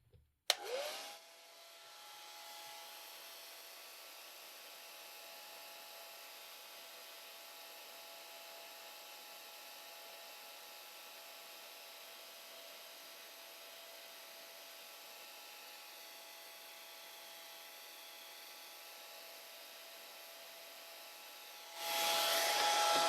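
A hair dryer drying a watercolor hummingbird painting switches on with a click and runs as a steady, even whir for about twenty seconds, quiet and close, with a louder shift at the end.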